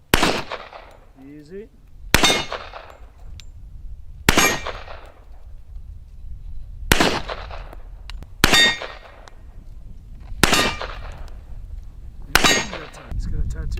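Heckler & Koch P30L pistol shots striking steel targets at an outdoor range: seven sharp, loud reports, each with a bright metallic ring, spaced about two seconds apart, with brief talk between shots.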